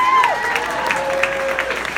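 An audience at a sold-out live show applauds on cue, a steady wash of clapping and crowd noise lasting about two seconds at moderate loudness.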